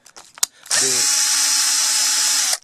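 A power drill backs screws out of an aluminum window frame: a few close knocks and clicks, then the motor spins up into a loud, steady high whine held for about two seconds before cutting off.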